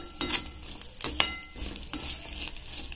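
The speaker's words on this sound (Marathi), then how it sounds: "तर मित्रांनो आता मी इथे खोबरं सुद्धा भाजून घेणार आहे" Grated coconut roasting in a pan for a village-style egg curry, a low sizzle broken by repeated scraping and clinking strokes of a spatula against metal.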